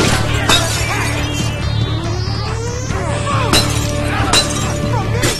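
A glass bottle smashes in the brawler game The Warriors amid a busy, dense game mix with a steady hum and several sharp breaking hits.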